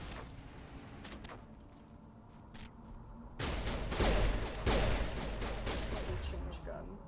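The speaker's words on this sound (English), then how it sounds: "Buddy, why are you shooting at me?" Gunfire in the sci-fi video game Mass Effect: scattered sharp shots over a low hum, then a louder stretch of rapid bursts and cracks, with voices talking alongside.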